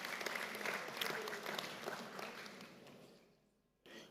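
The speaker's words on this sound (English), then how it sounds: "applause to the President" An audience at a university's ten-year celebration applauds the President, a steady, moderately distant wash of many hands clapping that fades out toward the end before a voice resumes.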